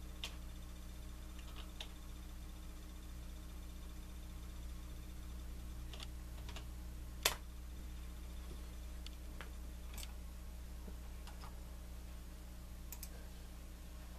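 Scattered keystrokes tap on a computer keyboard in a quiet room, a few sharp isolated clicks spread over a steady low hum.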